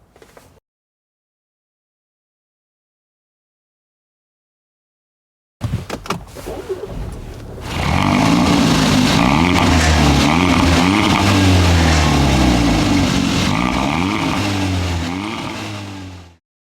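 A 2019 Hyundai Elantra GT N Line (i30 N Line) starting off after silence, with door and cabin clunks, then a loud, close engine drone rising through gears while driving.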